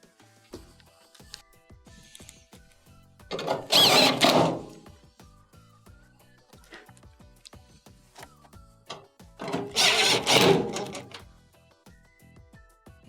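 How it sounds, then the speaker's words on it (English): Power driver running three quarter-inch screws back into the top panel of a Maytag dryer during a heating element repair, two loud whirring bursts of a few seconds each separated by quieter handling clatter. "Reattach your top 3 1/4-inch screws."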